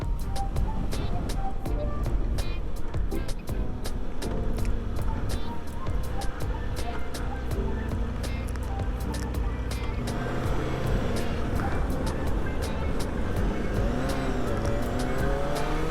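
A Kawasaki ZX-25R motorcycle engine drones steadily along a road in Japan, with a constant hum and occasional revs, and a voice speaks over it at times.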